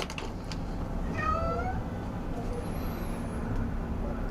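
A black and white house cat meows in a series of short, rising cries near the start, under a constant low rumble of road traffic, with a faint high whine later.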